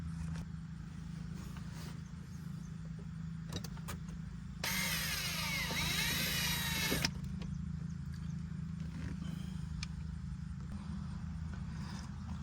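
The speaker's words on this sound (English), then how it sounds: "I'm gonna drill right there." Power drill boring a hole on a Silverado pickup during an LED light install, one loud whining burst of about two seconds over a low idling rumble, then stopping.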